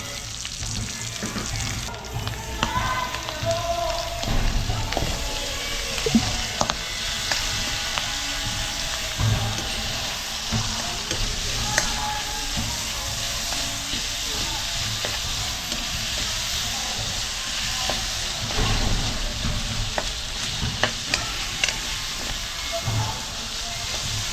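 Garlic, onion and tomato sizzle and fry steadily in a hot pan, a continuous close hiss with occasional stirring clicks and scrapes running throughout.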